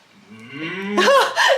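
A cow gives a single short moo, rising and swelling near the end, close and clear with no other sound around it.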